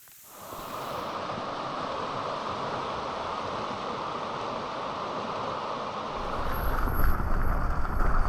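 Steady rushing wash of a creek flowing near a forest campsite in the Pacific Northwest, continuous broadband water noise at moderate level, swelling slightly louder near the end.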